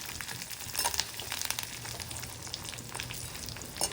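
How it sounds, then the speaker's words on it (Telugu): Dried red chillies fry with urad dal in hot oil, a soft continuous sizzle with light crackles and occasional stirring clicks, close and fairly faint, with no talk. "ఇప్పుడు కారానికి సరిపడా ఎండుమిరపకాయలు వేయాలి"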